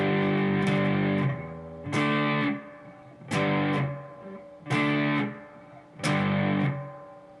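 Distorted electric guitar plays the second part of a verse riff at a slow tempo, five ringing power-chord hits each left to sustain and decay before the next, with no voices.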